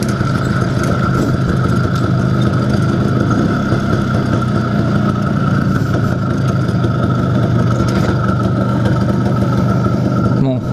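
An IZh Planeta 5 motorcycle engine idles steadily up close after a crankshaft seal replacement, holding an even, continuous putter throughout with no revving.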